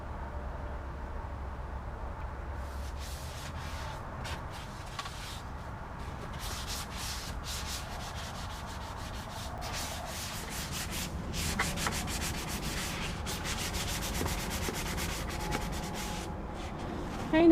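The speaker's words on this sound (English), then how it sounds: "Just gonna get that all scraped off here. Prep this table to be stained." Steady rubbing and sanding on a wooden table being scraped and prepped for stain, a continuous close abrasive hiss with rhythmic stroke patterns and no talk.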